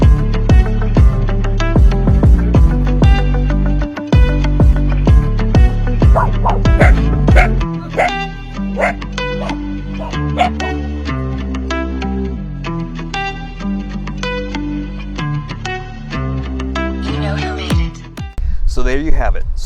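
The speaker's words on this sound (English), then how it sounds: "So come on out to the Baldy View Dog Park here in the city of Upland, California." Dogs at an outdoor dog park bark and yip in rapid bursts, loud and close at first, then a busier mix of yips and whimpers with a person talking over them, ending in a few sharp barks.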